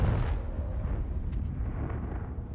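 Confringo fire spell bursts in the video game Hogwarts Legacy, a low rumbling blast that rolls on as a dull, fairly quiet roar with a couple of faint crackles.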